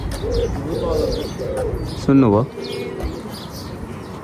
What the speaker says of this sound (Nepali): यहाँ ढुकुर